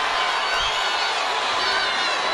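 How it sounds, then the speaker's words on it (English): A boxing arena crowd roars and cheers during the Terence Crawford versus David Avanesyan fight, a dense, sustained wash of noise from a large audience filling the whole stretch. "The crowd is eating it up."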